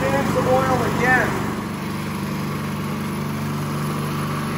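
Predator 212 small gas engine idling during break-in, a steady close mechanical drone that continues evenly, with someone talking over the first part.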